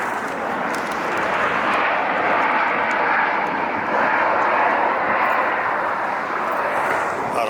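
Airliner noise near LAX with a Lufthansa 747 downwind on the north side, a continuous loud roaring jet rumble with a broad hiss that holds steady for several seconds, fairly close overhead, no talking.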